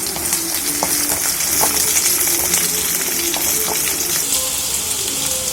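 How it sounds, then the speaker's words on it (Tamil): Chopped onions sauté in a pan with curry leaves, making a dense, continuous close-up sizzle and crackle with occasional faint scraping. "கட் பண்ணி வச்சுருக்கிற வெங்காயம் போட்டுக்கலாம். வெங்காயம் நல்லா வதங்கட்டும்."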